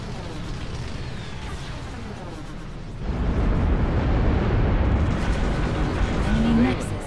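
Bombers strike a hacked nexus in a video game: after a quieter rumbling stretch, a sudden heavy roar of explosions erupts and sustains as a dense, loud blasting rumble.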